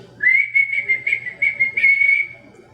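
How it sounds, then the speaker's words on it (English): A person whistles a sustained, warbling dinner call for pet cats indoors, one steady fluttering tone lasting about two seconds, fairly loud and close, with faint room hum underneath and no talking. "they all know the dinner whistle"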